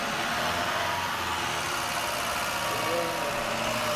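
A Mazda truck engine with a misfire idles roughly up close, a dense continuous mechanical rumble and clatter at steady loudness, with no talk.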